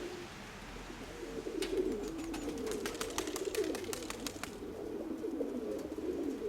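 Soft, low pigeon coos roll on steadily throughout, joined midway by a burst of rapid clicking or flapping.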